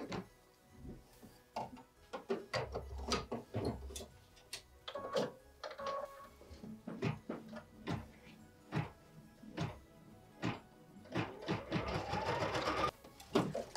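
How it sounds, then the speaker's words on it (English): An embroidery sewing machine stitches the final outline on a Christmas mini quilt project, producing close, rapid clattering ticks in irregular bursts that build to a denser run of stitching near the end. "we're gonna return it to the machine for machine step 9, which is stitching that final outline stitch"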